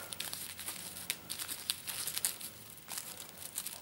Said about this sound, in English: So we now have to shuffle the monster deck here